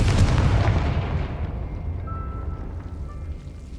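The Confringo fire spell in Hogwarts Legacy erupts with a loud, close booming blast, then a rumbling tail that fades away over several seconds with no talk.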